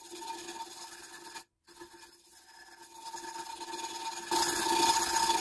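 Someone files down the edges of a homemade paintless dent repair tool by hand, a quiet rasping scrape in irregular strokes with a brief gap, growing louder and brighter toward the end.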